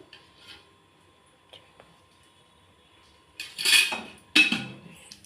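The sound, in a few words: cutting capsicum into small pieces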